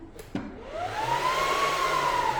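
A WeCreat Lumos portable engraving machine whirs up after a couple of clicks, with a steady motor hum and a tone that rises then settles, close and fairly loud.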